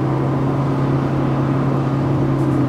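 A Proton Iriz hatchback with a CVT cruising at about 120 km/h, a steady low engine drone and road hum heard from inside the cabin, constant and fairly loud throughout.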